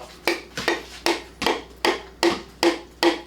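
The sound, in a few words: hammer tapping piston into engine block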